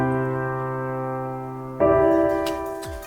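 A sustained synth chord soaked in FL Studio's Fruity Reverb 2 at 100% wet holds steadily, then a brighter new chord enters with a blooming reverb tail, played alone and fairly loud.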